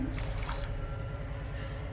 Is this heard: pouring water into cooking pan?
yes